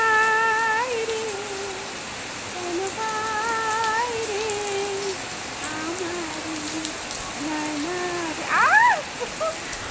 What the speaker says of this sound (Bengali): এত বৃষ্টি আর কি ভীষণ ভালো লাগছে বর্ষাকাল শুরু হয়ে গেছে এখানে